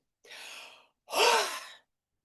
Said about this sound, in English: make sure you are breathing deep